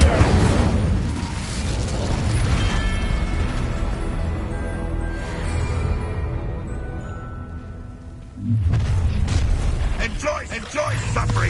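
Incendio fire spell in Hogwarts Legacy bursting in a rumbling, roaring blast over busy combat noise, with a second heavy whoosh near the end.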